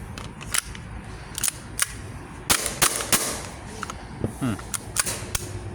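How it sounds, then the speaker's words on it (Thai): An airsoft-style gas gun being test fired with no pellets loaded after repair and lubrication, giving a series of sharp, close pops spaced irregularly, some in quick pairs, over steady workshop background noise. "ไม่มีลูกนะครับทดสอบยิงนะครับ"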